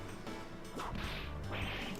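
Whip crack effect from the Ace Attorney Investigations video game, a short swish followed by a sharp snap, then another whooshing crack, quiet beneath a steady background wash.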